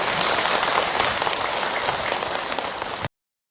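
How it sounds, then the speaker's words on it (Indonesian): A room full of people claps steadily in warm, continuous applause that holds evenly for about three seconds before cutting off abruptly, following a religious talk by a preacher. "sekali lagi tepuk tangan untuk Kak Hilman ya."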